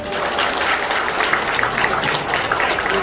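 Audience applause at the opening ceremony of a mayoral candidate's election campaign office in Gumi, South Korea, during a congratulatory address; a steady, moderately loud wash of many hands clapping continues evenly throughout.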